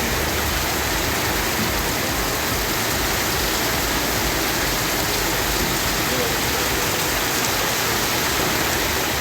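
Heavy rain pours down steadily across Tambaram, Pallavaram and nearby areas, a loud, dense and unbroken hiss of water that holds even from start to finish.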